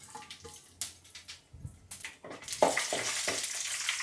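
Bay leaf, fennel seeds and cardamom sizzle in hot fat in a pan for paneer butter masala, a soft crackling fry with scattered stirring scrapes that grows denser and louder in the second half.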